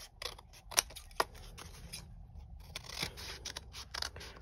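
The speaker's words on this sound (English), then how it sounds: "turn your scissors and undercut to remove the excess" Scissors snip through card in a series of short, crisp cuts, close up, trimming excess from a die-cut Christmas twig wreath, with quiet rustling between strokes and no talking.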